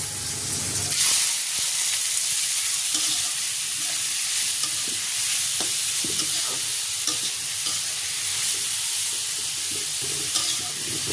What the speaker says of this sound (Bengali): এগুলো এখন হালকা করে ভেজে নেব তেল দিয়ে